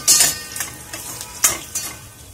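Finely chopped garlic, about ten cloves, fries in a pan with a close sizzle broken by several sharp bursts of stirring and spatula scrapes, alone without talk.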